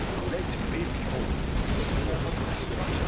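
Nuclear missile launch in Command & Conquer Generals Zero Hour: a sustained loud roaring rumble with a steady, unbroken low-end thunder throughout.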